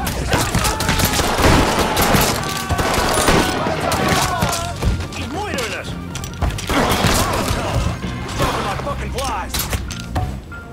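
Chaotic gunfire in the video game Mafia 3, with dense overlapping shots, clanks and crashes running almost nonstop, while a voice shouts over the din.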